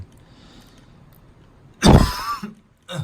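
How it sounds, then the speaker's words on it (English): A single harsh cough bursts out close and loud after near silence, followed by a shorter second cough or throat sound. "Pardon my cough, sorry."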